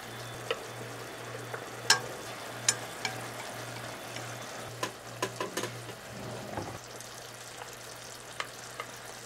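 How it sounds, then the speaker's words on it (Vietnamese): Fried pork ribs being stirred in a fish sauce glaze in a pan with a steady sizzle, punctuated by occasional clacks of a utensil stirring and scraping, under a low constant hum. "Trộn đều cho sườn thấm đều hết gia vị."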